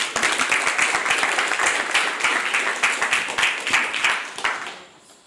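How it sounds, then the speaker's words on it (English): Audience at a conference breaks into a big round of applause to welcome a speaker to the stage, with dense, close clapping that fades out at the end. "to give a big round of applause and bring him up."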